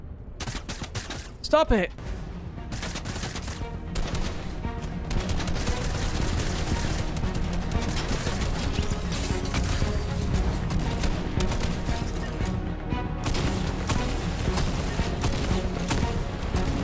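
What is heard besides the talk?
gunfire in a video game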